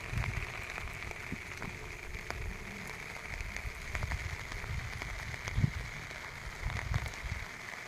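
Heavy rain pours steadily during a monsoon downpour over farmland, making a continuous hiss with occasional patters and drips at moderate volume, with no talking.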